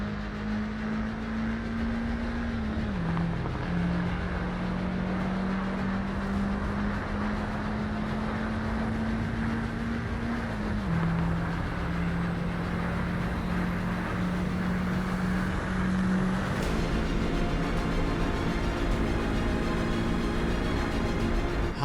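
A Subaru boxer engine racing in Assetto Corsa drones at a steady, loud pitch, climbing gradually and then dropping sharply at each of several gear changes, with no talking.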